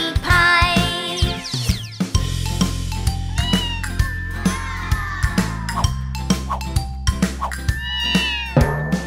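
A cartoon kitten meows repeatedly in rising and falling cries over a bouncy children's nursery rhyme tune with a steady bass beat and light jingles.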